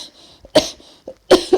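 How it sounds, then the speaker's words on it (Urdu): A violent coughing fit from a man in a dramatized Urdu audiobook, heard as two loud, harsh bursts of several rapid coughs separated by a brief pause, with no speech over them. "اس کے ساتھ ہی اسے کھانسی کا شدید دورہ پڑ گیا۔"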